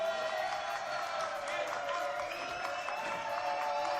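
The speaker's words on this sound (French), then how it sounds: "Applaudissements, s'il vous plaît." Studio audience applause on a French television variety show, a steady wash of clapping and cheering that carries on evenly throughout, with voices blending into the crowd noise.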